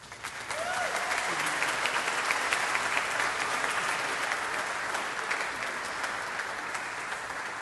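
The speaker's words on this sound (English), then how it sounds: "one more round of applause for our graduates" A large audience at a college commencement applauds the graduates, a loud, full wash of clapping that swells quickly, holds steady and eases slightly toward the end, with a faint voice at the start.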